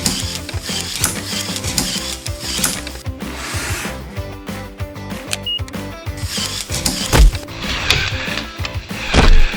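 A Lego Technic mill machine runs with busy clicking, ratcheting plastic gears and small mechanisms, a steady close mechanical clatter that continues throughout with a few louder knocks near the end.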